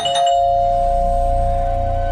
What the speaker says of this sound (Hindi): ठीक तभी घर की डोरबेल बजी